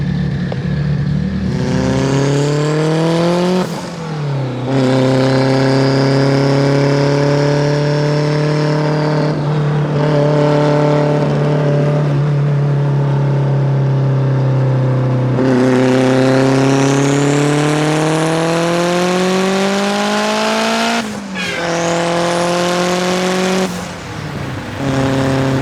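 A turbocharged Mitsubishi Evo 8 on a street pull, running a 9-pound wastegate spring, revs hard through several gears, each rising engine howl broken by brief shift dips and turbo hiss, loud and close.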